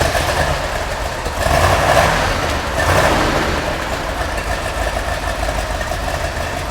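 A 454 LS6 V8 with solid lifters idles steadily with a deep, rumbling exhaust and a lumpy, uneven lope, heard up close and continuous throughout.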